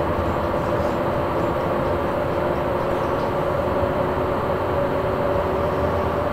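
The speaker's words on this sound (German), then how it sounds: "man hört, die Lok wird jetzt lauter. Lüfter sind an." An electric locomotive in Train Simulator 2014 drones steadily with its cooling fans running, a constant dense hum with a sustained tonal whine and no talking.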